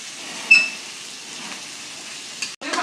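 Roasted eggplant fries in a pan for a spicy bharit with spring onion, giving a steady, close sizzle with a sharp clink near the start and a brief clatter near the end.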